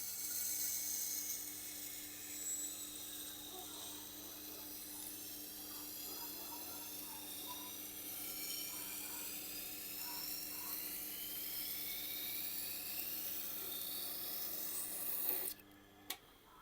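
Knife edge ground on a Tormek sharpening machine, a steady whirring hum with faint scraping passes of the blade, close and quiet, ending with a few small clicks and knocks.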